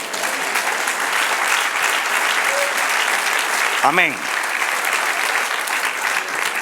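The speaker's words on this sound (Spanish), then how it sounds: "Dale un aplauso al Señor." A church congregation applauding the Lord during a sermon, loud dense clapping that runs steadily throughout, with a brief voice calling out midway.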